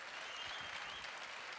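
Steady applause from an audience at an outdoor festival orchestra concert, dense continuous clapping at a moderate distance with no talking over it.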